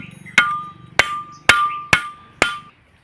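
Five sharp hammer blows on a coconut, evenly spaced about half a second apart, each a loud close crack with a ringing metallic tone that fades before the next strike.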